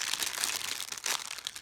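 Packaging wrap crinkles and tears as a package is ripped open and crumpled, a dense run of close, crackly rustling bursts without any speech.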